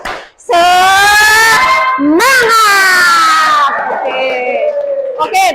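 An Indonesian school class does a loud spirit chant together, with children's voices rising in long sustained shouts and sharp accents that fill the room closely.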